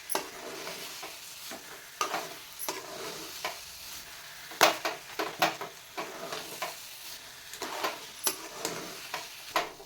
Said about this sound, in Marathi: आता मंद गॅसवरच हे मिश्रण आपल्याला परतून घ्यायचं आहे